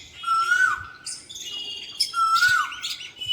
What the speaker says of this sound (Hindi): कोयल की मीठी सुरीली आवाज़ कितनी प्यारी लग रही है, कितना मीठा बोल रही है कोयल।